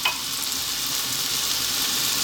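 Garlic ginger paste, a half-and-half mix of garlic and ginger, frying in a hot pan for saag aloo, a continuous close, loud sizzle with a brief splash at the start as it goes in.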